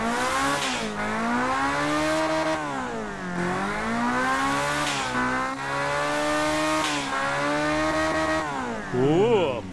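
A Group C race car engine in Gran Turismo 7, turbo boost set around 1350 horsepower, revs hard and climbs through gears with steady rising whines and brief dips at each shift, loud and continuous.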